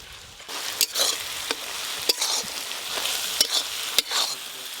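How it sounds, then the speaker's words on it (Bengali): Spice paste of ground dried chilli, salt and turmeric for mutton curry fries and sizzles in a pan, with a steady crackling hiss and repeated sharp scrapes and knocks of stirring, close and fairly loud, with no talking. "খাসি মাংস রান্নার জন্য মশলা বেশ ভালো করে কষে নিয়েছি।"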